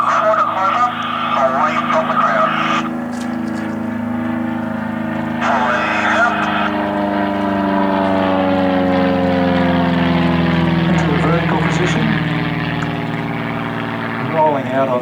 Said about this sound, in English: for each manoeuvre he takes the aircraft up quite high and dives it towards the ground to build up extra momentum